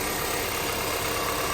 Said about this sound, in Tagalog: ito yung makina niya. Yan o, masurprise kayo. Napakagandang makina.